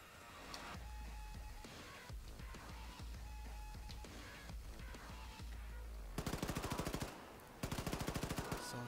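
Bursts of rapid automatic gunfire over a busy soundtrack from the video game Wolfenstein II: The New Colossus, with two loud sustained volleys of machine-gun fire near the end.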